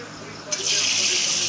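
Masala with chili powder frying in a pan: a steady sizzling hiss that suddenly swells louder halfway through and holds, with a faint voice in the background.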